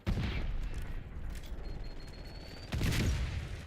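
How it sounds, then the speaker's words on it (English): An impact grenade goes off in Black Ops 6 on the Nuketown map. A rumbling blast opens the stretch, continuous distant gunfire fills the middle, and a second heavy boom lands near the end, with no talking. "Impact grenade thrown."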